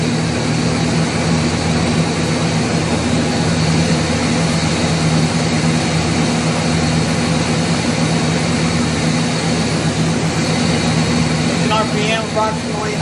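A Chevrolet 350 engine idles at roughly 920 RPM during a cylinder test while an intake manifold gasket fault is diagnosed, giving a steady, unbroken mechanical drone with a constant low hum throughout.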